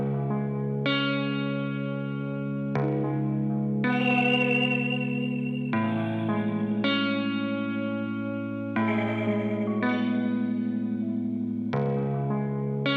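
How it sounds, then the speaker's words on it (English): Long sustained Les Paul guitar notes are played through heavy vibrato, delay and chorus effects. They ring out one after another, each wavering and echoing with a shimmering tail, with no talking. "To get this unique sound, I use this heavy vibrato, delay and chorus"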